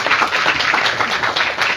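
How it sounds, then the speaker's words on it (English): At a devotional gathering in Delhi, a crowd claps in a dense, continuous burst, close and loud for under two seconds with no talk over it. "Give a big round of applause for this regard."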